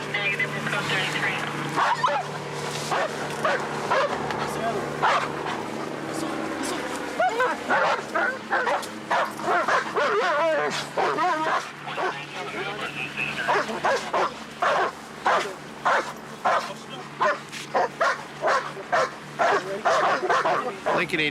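Police dog barking loudly and repeatedly during a fugitive arrest, a rapid string of close barks and yips that keeps up steadily while officers talk over it.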